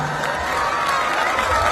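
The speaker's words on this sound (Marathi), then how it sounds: "टाळ्या होऊ दे, टाळ्या." A crowd at a Navratri festival hypnotism show, heard as a continuous dense wash of clapping and cheering voices, loud and sustained throughout.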